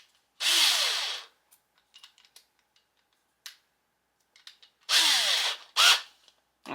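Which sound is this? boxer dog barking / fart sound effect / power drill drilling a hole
power drill drilling a hole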